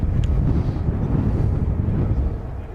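Military jets at RAF Lakenheath run both engines at full throttle, producing a heavy, continuous low roar with wind buffeting the microphone and no voices.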